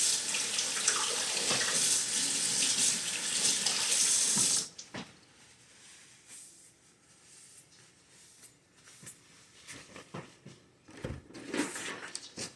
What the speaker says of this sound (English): go and do a quick rinse